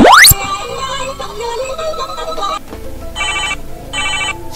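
Mobile phone ringing with an incoming call in a comedy scene: a repeated electronic ringtone comes in bursts, moderately loud and close, with people talking over and between the rings.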